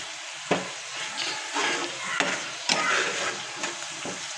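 Ingredients for masoor dal lightly frying in a pan: steady sizzling with intermittent stirring scrapes and clinks, close and clear, with no talking.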